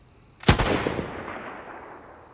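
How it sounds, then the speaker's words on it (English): A single rifle shot cracks loudly at night in the mountains, its sharp blast trailing into a long rolling echo that fades over about two seconds. "The gunshot was apocalyptic. It shattered the night, a deafening explosion that echoed off the mountains"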